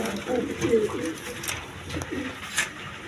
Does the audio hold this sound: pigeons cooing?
yes